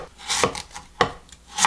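A kitchen knife slices radish into thin strips on a cutting board, giving a few distinct, close chopping strokes with a scraping rub between them.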